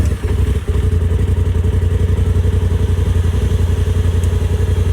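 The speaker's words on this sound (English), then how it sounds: "we're gonna fire this up" A 2019 Polaris RZR Turbo S with a VR-tuned ECU flash catches and settles into a loud, close, steady throbbing idle, exhaust in closed mode, after a brief stumble at startup.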